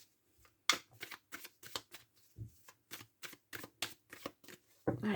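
A deck of tarot-style cards is shuffled and cut by hand, giving a run of crisp, quick riffling bursts in an irregular rhythm. They are close and fairly quiet, with brief pauses between them.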